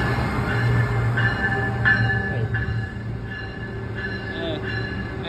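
An Amtrak passenger train moves through New Carrollton station, with a constant low rumble, humming tones and a few short metallic squeals and clanks.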